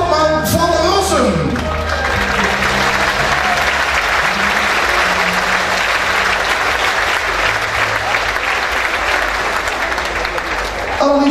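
A crowd at a Stoppelhaene harvest festival applauds the newly named harvest queen, sustained loud, dense applause that carries evenly from start to finish, with a voice and some tonal sound briefly audible at the very beginning.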